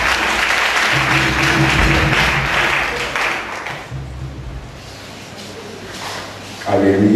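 Congregation applauding at a New Year's Eve church vigil, a loud sustained wash of clapping with murmuring voices underneath that eases off midway, then swells again near the end.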